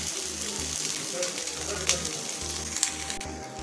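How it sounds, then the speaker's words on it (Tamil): Sweet bread toasts on a pan greased with ghee, giving a steady soft sizzle with faint scraping, while someone talks over it. "அதை நெய் தடவை பேனில் வச்சு நம்ம டோஸ்ட் பண்ணிக்கலாம்."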